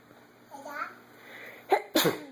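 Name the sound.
sneeze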